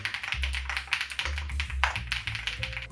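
Keystrokes on a custom-style wireless keyboard with Bluetooth, wireless receiver and USB-C wired connection, a steady run of close, crisp taps with a low thocky body, no talk.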